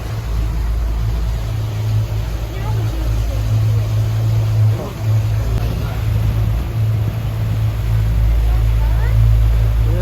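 A boat runs through the waterway inside the Avenue mall in Bahrain, its engine a steady loud low hum with slight swells throughout, with busy background noise around it.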